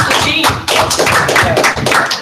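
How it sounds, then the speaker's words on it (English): A group applauds at a meeting, with brisk, closely spaced claps forming a loud, busy texture near at hand, and voices mingling faintly in the background. "how about a round of applause?"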